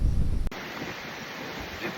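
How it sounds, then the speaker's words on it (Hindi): Strong wind gusts across An Bang Beach in Hoi An, Vietnam, a steady broadband roar that starts abruptly after a brief louder rumble and keeps blowing evenly near the microphone with no talking. "इतनी तेज़ हवा चल रही है।"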